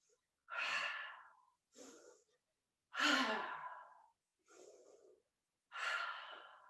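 Breath of joy yoga breathing exercise: a series of five loud, forceful breaths, deep inhales and sighing exhales in an uneven rhythm, close to the listener with quiet gaps between them.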